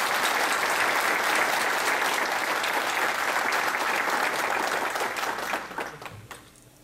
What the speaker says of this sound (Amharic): ረጅም እድሜና ጤና ለኢሃፓ ትግል ላሳለፋችሁት እናት አባቶቻችን ሁሉ አንድ የክብር ጭብጨባ